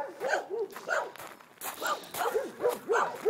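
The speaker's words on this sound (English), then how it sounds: "Oh, you got the nice little bark." A small dog gives a run of short, high, yappy barks at close range, about a dozen in quick uneven bursts, with no other voices.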